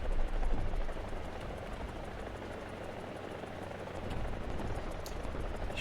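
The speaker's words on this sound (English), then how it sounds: "Sure, I can hear another helicopter." A helicopter in the video game War Thunder drones nearby with a continuous rotor chop and engine hum, steady and fairly faint throughout with no talking.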